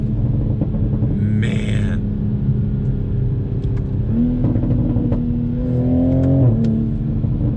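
New Toyota Supra heard from inside while driving, its engine a steady droning rumble that rises in pitch as it accelerates, with a brief higher whir partway through.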